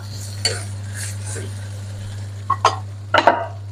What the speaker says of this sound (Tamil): உப்பும் போட்டு நல்லா கிளறி விட்டு கொள்ளுவோம்